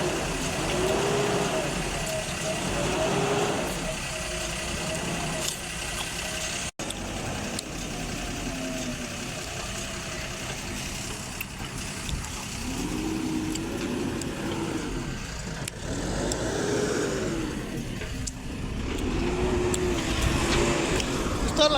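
Diesel engine of a Tata dumper truck stuck in mud, rumbling steadily and rising in bursts of revving during loading by a JCB 3DX backhoe, close and loud throughout with people talking over it.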